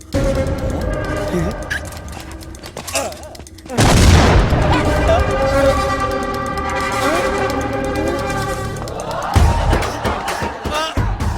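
Bomb blasts in a Telugu comedy film scene: a loud boom bursts in near the middle and rumbles on amid crowd noise and music, with a second surge toward the end.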